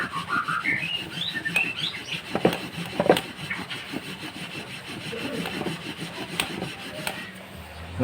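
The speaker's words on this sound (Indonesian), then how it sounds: "kita gosok lagi, kita kasih bensin sedikit sini" Rasping, rubbing scrape of a Satria FU motorcycle camshaft being lapped with a little petrol, steady close back-and-forth friction strokes with no talking.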